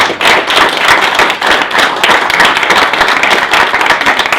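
Loud, steady clapping from a rugby league audience at a press conference, many hands clapping together throughout, close and dense, fading briefly and surging again.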